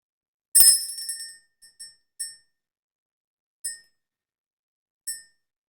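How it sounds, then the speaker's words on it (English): A bell rings with one bright clear strike that rings out briefly, followed by several lighter, spaced dings, crisp and metallic against silence. "That seemed like it was a bell for like a delayed reaction."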